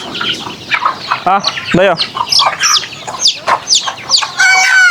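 A flock of farm chickens with newly hatched chicks clucks steadily and close by. A few sharp, rising calls stand out, and people talk over the birds.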